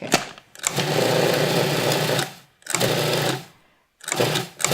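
A food processor whirs in loud bursts as it pulses shortcrust pastry dough into breadcrumbs: one long run of about two seconds, a shorter one, then a third starting, with brief silences between.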